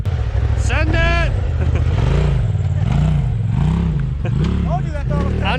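Engine of a turbocharged RZR side-by-side revs in steady rising and falling surges, loud and close throughout, with excited voices shouting over it.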